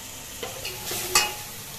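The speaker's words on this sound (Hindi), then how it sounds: "छौंक दे दिया है सारे" Spices sizzle steadily in hot oil as a tempering for a potato and pea curry, with a few brief louder crackles and clinks of stirring, close by and fairly quiet.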